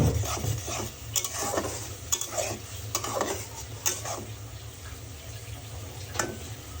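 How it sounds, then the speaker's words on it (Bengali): Turmeric and chili powder are stirred and mixed in a hot pan, giving repeated close scraping strokes of a utensil against the pan over a soft continuous sizzle. "ভালো করে নেড়ে একটু মশলাগুলো মিশিয়ে নিব।"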